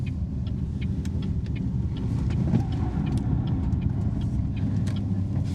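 A BYD Sealion 5 hybrid SUV in HEV mode takes a turn fast, giving a steady close-up cabin rumble of engine and road noise with faint ticks and slight swells, and no talking.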